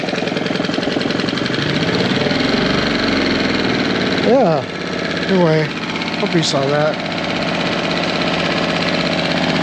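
A Tohatsu 6hp outboard motor idles steadily with a low mechanical drone, running continuously throughout while someone talks briefly over it.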